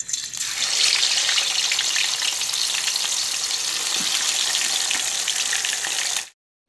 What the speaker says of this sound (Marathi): आता हे लास्टला मी फिश तळायला घेतलेले आहेत